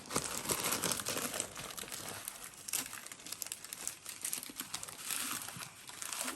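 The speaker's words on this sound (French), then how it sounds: "Donc, on va ouvrir l'autre sel." Package of coarse salt being torn open and crinkled by hand in a kitchen, a continuous close rustling and crackling of plastic with small tearing bursts.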